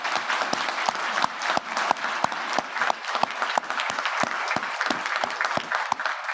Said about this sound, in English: Can we just give him a round of applause, please?